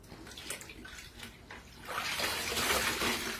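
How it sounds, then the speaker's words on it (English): A delicate silk garment is swished gently by hand in a basin of washing water, giving soft sloshing that grows fuller and louder toward the end, with no talking. "Give it just a gentle swishing around."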